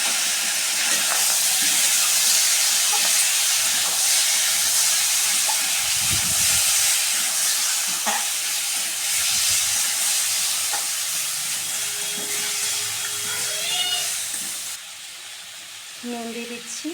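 Mango pieces drop into hot oil tempered with dried red chillies and mustard seed, sending up a loud, steady sizzle and hiss that runs nearly throughout, with occasional stirring knocks and a brief lull near the end.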